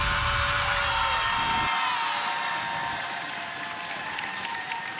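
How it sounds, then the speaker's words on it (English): A crowd at a high school volleyball game cheers and claps in a gym after a point, steady and loud throughout, with shouts and applause blending into a bright roar that eases only slightly toward the end. "this crowd is hyped up"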